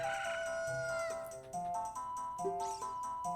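In The Legend of Zelda: Ocarina of Time, a game chicken gives a short squawking cluck near the end, heard over the steady tones of the game's background music.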